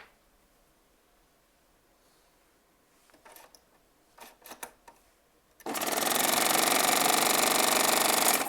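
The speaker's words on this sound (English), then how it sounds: "the air pulls it right on through that eye for you" A Triumph serger's air threader fires a steady, loud rush of air that blows thread through the needle eye, starting abruptly after a few soft clicks and handling noises.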